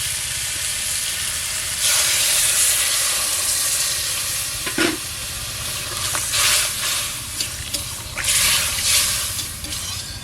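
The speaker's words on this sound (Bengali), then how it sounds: "হলুদ দেওয়ার পরে জল ঢেলে দেবো" Water hits a hot pan of ridge gourd and potatoes with turmeric, making a loud steady hiss and sizzle that swells and rustles as it is stirred, with a brief clack in the middle.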